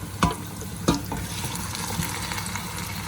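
Diced lamb sizzles steadily in a hot pan as it is stirred, a continuous close frying hiss broken by a couple of sharp scraping knocks from the spoon.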